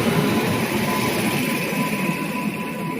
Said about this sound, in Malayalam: പേൾ സിറ്റി സൂപ്പർ ഫാസ്റ്റ് ആണ് ഈ പോകുന്നത്